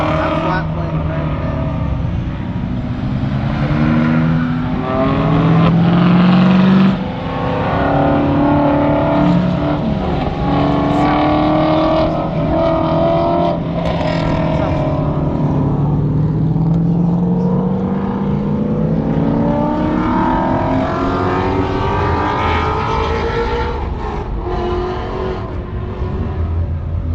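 A loud, continuous flat-plane crank car engine on a race track drones and shifts pitch throughout, with voices talking over the steady roar.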